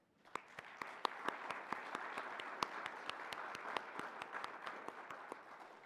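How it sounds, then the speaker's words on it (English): An audience applauds student artists and faculty at an MLK celebration event, a steady wash of many hands clapping with sharp individual claps standing out, sustained throughout without talk. "Can we please offer these artists and our faculty a round of applause?"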